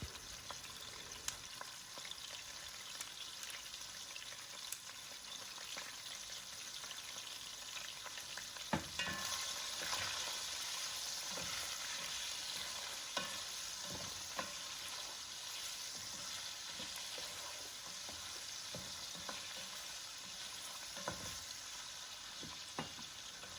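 Ivorian fried rice sizzles and fries in a pan while being stirred, a quiet steady crackle broken by soft scraping strokes of the spoon, with no voices.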